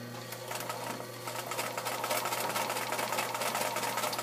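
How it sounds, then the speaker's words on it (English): A sewing machine stitches a seam on a wool Birka hat, running at a slow, steady pace with a continuous mechanical whir and rapid needle clatter, close and moderately loud with no talking. "after rethreading my machine because the thread broke, it's time to start sewing again"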